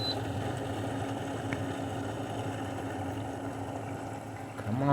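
An LG 6,000 BTU window air conditioner in cool mode hums steadily with its compressor running, a constant low mechanical drone close by, briefly swelling louder at the very end.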